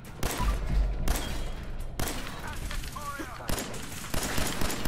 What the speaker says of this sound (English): We're gonna go good old-fashioned 10mm on him